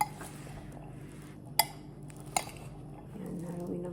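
Salad being stirred in a bowl with bell pepper, with soft clinks and two sharp utensil knocks against the bowl over a low steady background hum.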